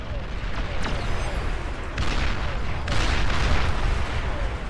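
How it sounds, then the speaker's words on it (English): Artillery in the strategy game Beyond All Reason pounding a bulwark defense, a dense, continuous roar of booms and rumbling blasts with sharper impacts layered on top, loud and unbroken throughout. "His artillery are sieging the bulwark down here."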